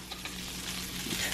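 Leftover lentil pasta sizzling in a skillet, a steady close frying hiss with faint scraping, moderately quiet throughout.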